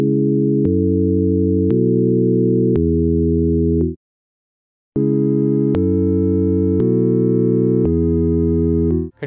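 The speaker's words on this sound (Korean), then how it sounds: "저는 사인파형 중에서도 배음이 약간 있는 아날로그 비디 사인을 골라보겠습니다" Analog-style sine wave electric piano patch from the Serum synth, playing sustained chord notes in an even rhythm, loud and clean, with a short gap before the tone returns brighter.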